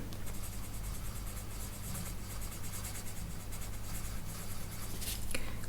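Colored pencil shading on a page of an Outlander colouring book, a continuous close scratchy scraping of pencil on paper over a low steady background hum, with no talking.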